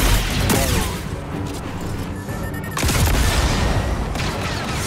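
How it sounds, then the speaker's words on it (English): Gunfire in the video game Star Wars Jedi: Survivor, dense overlapping shots and booms forming a loud continuous barrage for the whole stretch. "Lazy shooting!"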